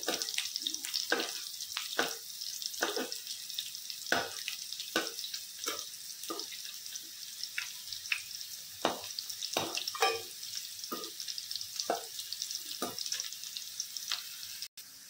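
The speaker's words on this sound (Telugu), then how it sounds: "ఇప్పుడు మన కాకరకాయలు ఇలా వేపుకున్నాం కదండి" Bitter gourd pieces fry in a pan on high flame, a soft continuous sizzle punctuated by frequent sharp clicks and scrapes as pieces are turned, close and fairly quiet, without talk.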